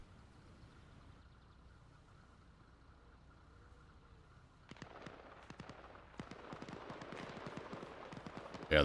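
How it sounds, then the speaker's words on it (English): SA-58 rifles fire in a distant battle in ArmA Reforger, faint sharp cracks arriving in scattered bursts and quick strings of rapid shots over a quiet ambient background. "I hear the SA-58s kicking off"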